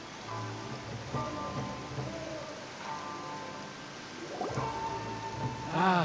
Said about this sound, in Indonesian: Hujan lagi, males gue kalau udah hujan.